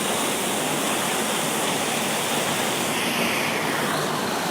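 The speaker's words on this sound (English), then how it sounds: "So this is the spillway of a lake where the water is pouring over" Water pours over a stepped lake spillway on a dam on Long Island's south shore, a loud, unbroken roar of falling water heard up close.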